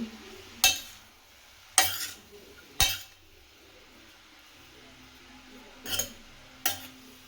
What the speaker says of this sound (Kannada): ಎಲ್ಲನೂ ಈ ರೀತಿ ಫ್ರೈ ಆಗಬೇಕು ತುಪ್ಪದಲ್ಲಿ